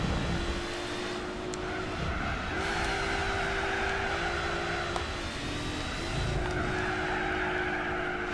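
Racing car engine whine with tires skidding and squealing in Gran Turismo 4 during a 4WD challenge, the pitch sliding down and climbing again across several corners, fairly quiet and without speech.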